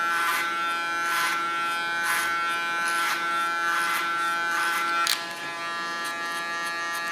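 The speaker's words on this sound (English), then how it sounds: "Using my clipper as a comb," Electric hair clippers buzz steadily through a perm haircut on longer asymmetrical hair, with a constant close hum and rhythmic swells about once a second as the blade sweeps against the hair flow.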